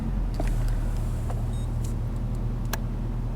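A 2016 Ford F-350 6.7 Powerstroke diesel pickup accelerates in a 0-60 run, its engine a steady low rumble heard from inside the cab, with a few faint clicks and taps.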